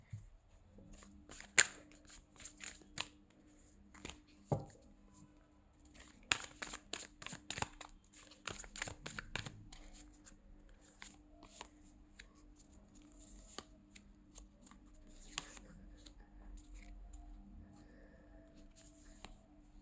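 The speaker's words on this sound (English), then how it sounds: "just give me a while I arrange these cards" Tarot cards being arranged and shuffled by hand, with soft scattered riffles, taps and slides of card stock, close and quiet, some louder clustered flicks in the middle and brief lulls between.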